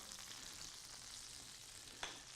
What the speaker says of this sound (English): You hear the sizzling starting? That's a sign that perhaps it's just a little bit too high.